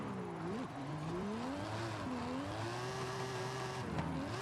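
A car drifting in Forza Horizon 5, held in seventh gear, with a steady engine drone and rising, falling pitch that sweeps through the slide, continuous and close with no talk.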